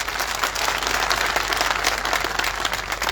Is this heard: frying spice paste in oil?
no